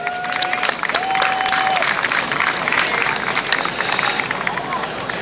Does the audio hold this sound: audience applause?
yes